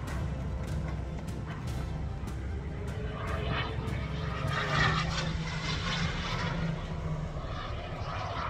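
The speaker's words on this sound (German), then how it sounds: "Hier hat einer seinen Jet steigen lassen." At a model airfield in Steinbourg, a model jet aircraft takes off with a steady, fairly distant turbine roar that swells slightly midway, while sharp clicks and knocks sound nearby.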